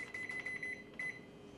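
A Panasonic microwave oven keypad beeps as the power level is set, a quick run of short bright tones followed by one longer beep, fairly faint and close.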